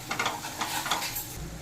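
Mustard and poppy seed paste frying with spices in a pan, a soft sizzle with light stirring and scraping close by, no voices.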